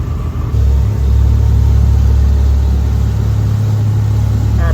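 A boat powered by Cummins marine diesel engines accelerating, heard as a loud, close, steady low engine drone that swells and then holds over a constant rush of water and wind, with no voices.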